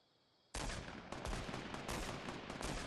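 A burst of dense, loud video game gunfire erupts suddenly after a short quiet lead-in and continues as rapid overlapping shots with no pause.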